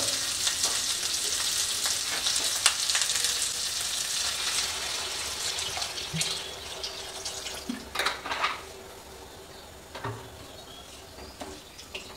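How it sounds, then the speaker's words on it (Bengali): Water poured into sizzling, oil-released fried spice masala for a duck-egg bora curry in a pan, giving a loud hiss that fades over several seconds into softer bubbling with a few clinks. "এর মধ্যে আমরা দিয়ে দেবো জল।"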